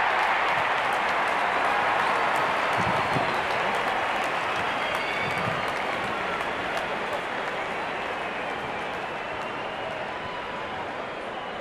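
Cricket crowd at an India vs West Indies match cheers in anticipation as the openers walk in, a dense, steady roar of voices and applause, loud and continuous throughout.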